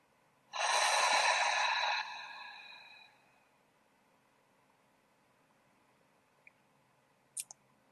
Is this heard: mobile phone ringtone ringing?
no